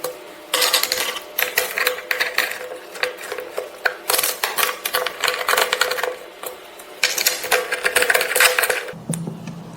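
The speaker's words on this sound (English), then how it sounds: "Carefully screw them on one by one and securely." Screws are driven one by one into a Pilates reformer frame during assembly, giving close, repeated bursts of rapid mechanical whirring and ratcheting that start and stop in several runs, with a brief pause near the end.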